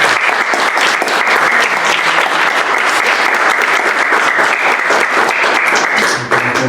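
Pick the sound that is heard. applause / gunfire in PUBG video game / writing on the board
applause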